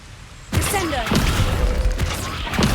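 A heavy magical slam from the Descendo spell in Hogwarts Legacy strikes after a short quiet lead-in, with a sudden loud impact followed by crashing rumble and smaller thuds, mixed with battle noise.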